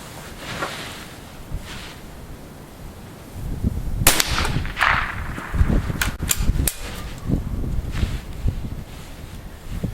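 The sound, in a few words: gunshot from .22 Federal rifle round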